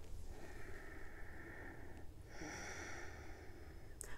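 Slow, audible breaths in and out during a beginner hatha yoga session, two long airy exhalations close to the microphone with a brief pause between and no talking.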